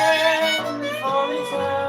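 A guitar lick on the minor blues scale with each phrase starting on the seventh, a short, moderately loud run of sustained melodic notes with no talking.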